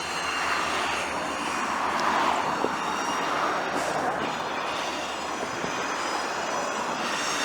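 An SD40-2 diesel locomotive rumbles steadily in a rail yard, a broad continuous engine drone heard from a moderate distance without talk.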